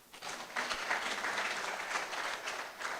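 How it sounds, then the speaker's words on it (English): Audience applause for Paul Nyame at an inaugural lecture, a steady wash of many hands clapping that rises quickly and holds at moderate loudness throughout, with no talking over it. "clap for Paul Nyame, please."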